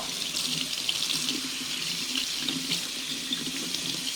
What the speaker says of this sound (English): I'll grab this other one real quick and rinse it off.